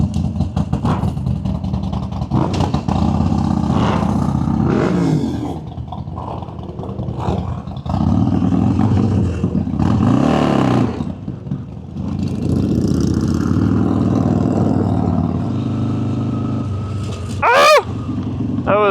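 Several motorcycles on a night group ride, engines surging and fading in repeated accelerations, loud and close with wind roar and a rider's voice talking in between.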